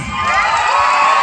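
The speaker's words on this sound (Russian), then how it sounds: "Бурные аплодисменты парням!" An audience at a live concert in Taraclia breaks into a dense wash of cheering and shouting for the performers, loud and continuous.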